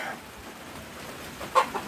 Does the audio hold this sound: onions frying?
no